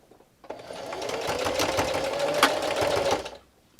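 Sewing machine running a straight backstitch along fabric for a small headphones pouch, one steady continuous whir about three seconds long, close and fairly loud, with no talking.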